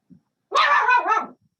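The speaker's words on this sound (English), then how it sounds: "oh, sorry, there goes my little dog." A small dog gives one drawn-out, high-pitched bark that is close and loud and slides into a whiny yelp, with silence before and after.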